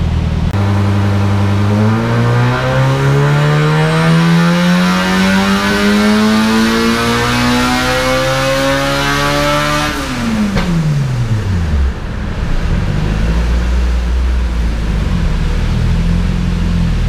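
Turbocharged Honda B-series engine making about 500 horsepower on 93 octane, running loud and close: a long rising rev climbing smoothly to a peak, then revs falling back off and settling into a rough idle.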